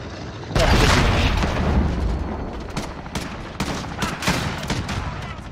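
Gunfire in the Modern Warfare video game: a loud opening blast gives way to rapid bursts and scattered shots that crackle over a rumbling battle backdrop.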